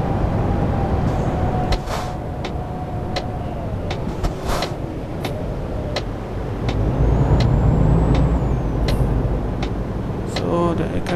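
In Euro Truck Simulator 2, a truck's engine rumbles steadily while several short air-brake hisses and clicks punctuate the drive, with a voice talking over it.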